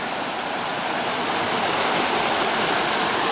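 River stream flowing in the Smoky Mountains, a dense steady rush of water, loud and close, continuous with no other sounds.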